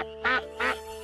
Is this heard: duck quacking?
yes